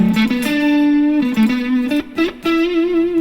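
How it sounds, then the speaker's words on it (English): An electric guitar plays sustained single notes through a patch cable in an amp's FX loop, the tone slightly fuzzy with crossover distortion, loud and close with a few brief gaps between notes. "Can you hear how it's a little bit more distorted?"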